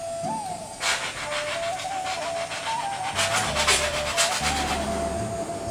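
A voice mimics an old train drawing closer, with a thin sustained whistle-like tone over breathy, hissing puffs that grow a little stronger toward the end. It is heard alone and close up.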